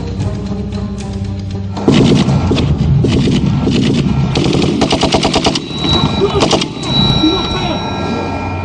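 Heavy gunfire from a Taliban attack on troops, with bursts of machine-gun fire and single shots cracking continuously and loudly, mixed with the rumble of nearby engines.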